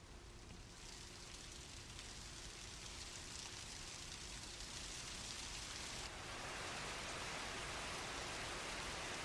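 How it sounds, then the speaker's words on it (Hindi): Heavy rain driven by strong winds in Dharamshala, a steady dense hiss of downpour that swells slightly louder partway through, with no voices. "धर्मशाला में तेज हवाओं के साथ तेज बारिश हुई है।"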